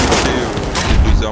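Gunfire in the video game Wolfenstein: The New Order comes as a loud, dense burst of rapid shots with booming low end, filling the short stretch without pause.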